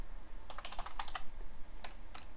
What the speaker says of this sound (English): As you can see, we're typing in Notepad